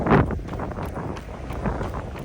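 Outdoors on a warm morning run, gusty wind buffets the microphone in loud, rumbling bursts, with faint footfall-like thuds underneath and no speech.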